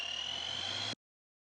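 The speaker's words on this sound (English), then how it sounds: "There is a riser sample before the choruses." Filtered riser sample from a metal mix, placed before the song's choruses, a thin, bright sustained tone that swells evenly for under a second, then cuts off abruptly into silence.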